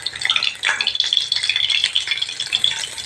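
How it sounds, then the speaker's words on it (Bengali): Chicken pakoras crackle and sizzle in hot frying oil as they are lifted out, a bright, busy hiss with rattling stirs throughout, close and fairly loud. "এবার আমি পকোড়াগুলো তেলের থেকে তুলে নিচ্ছি।"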